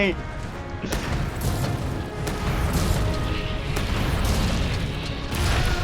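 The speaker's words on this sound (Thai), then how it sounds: "ถูกซอร่าระเบิดใส่" Zorah Magdaros explodes in the video game Monster Hunter World: Iceborne, with repeated heavy booms and crashing bursts layered over a dense, rumbling game soundscape while a voice talks over it.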